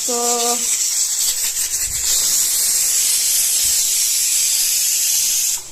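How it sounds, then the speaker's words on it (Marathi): Steam hisses continuously from food cooking in a home kitchen, a loud, bright, breathy rush that holds steady throughout after a brief tonal beep at the start, with a few soft knocks beneath. "मी ना याची वाफ घेत असते चेहऱ्याला"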